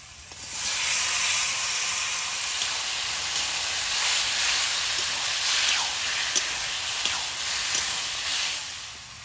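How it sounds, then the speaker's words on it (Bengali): Bottle gourd dropped into hot fried spices sizzles steadily in the pan, a loud continuous hiss with faint crackles and pops throughout. "মশলাটা ভাজা হয়েছে এবার লাউটা দিয়ে দেবো"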